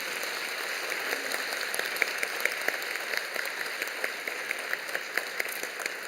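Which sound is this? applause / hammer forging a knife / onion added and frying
applause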